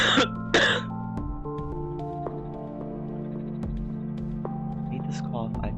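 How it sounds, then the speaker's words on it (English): A couple of harsh coughs or throat clears come right at the start, close and loud, followed by quieter background sounds. "I hate this cough."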